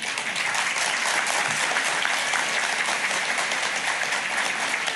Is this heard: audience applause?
yes